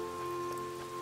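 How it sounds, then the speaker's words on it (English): Steady rain falls in an outdoor area of the farming game Harvestella, a constant soft patter that continues evenly without a break, with a faint tonal hum from the game's music beneath it. "because it's raining"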